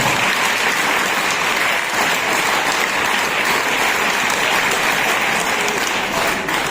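A crowd of students applauds at the close of a motivational speech, loud, dense and continuous clapping filling the room without pause.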